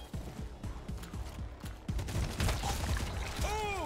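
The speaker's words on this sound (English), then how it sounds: "Oh, she guns him down!" Gunfire in the video game Showgunners: a run of regular rapid shots, fairly close, followed by denser overlapping bursts and clatter against a noisy game background.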